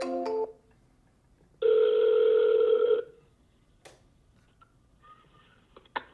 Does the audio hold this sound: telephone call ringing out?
yes